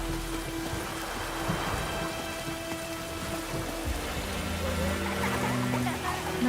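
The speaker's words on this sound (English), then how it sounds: "Griffin don't fly in the rain." Steady rainfall in The Witcher 3 with a continuous, even wash of drops, together with low background rumble and tonal game ambience. No speech is heard.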